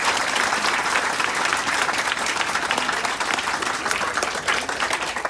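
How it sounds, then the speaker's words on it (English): Sustained applause from a crowd at a Veterans Day community event in Cypress Park, dense steady clapping that stays loud and even throughout, close and full with no break. "So let's give a round of applause to the Friends of Cypress Park Community Improvement Association."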